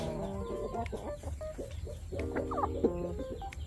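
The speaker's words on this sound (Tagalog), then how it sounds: "Malulusog na ang mga manok." Chickens cluck and murmur close by, with soft scattered calls and faint rustling, and no one speaking.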